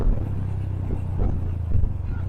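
Two-stroke motorcycle exhaust revved at its loudest setting, a steady close-up low rumble with slight surges and no talk over it.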